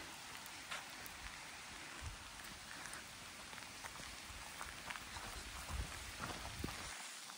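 Steady rain falling, heard from indoors in the Ghatnandra hills, a constant hiss with scattered drops tapping on a surface, fairly soft and continuous with no voices.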